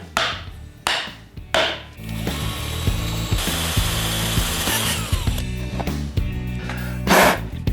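A power drill with a step bit cuts into a motorcycle fender for a Honda Shadow, giving short trigger bursts and then a sustained grinding whine, close and loud with a few ratcheting clicks and no speech.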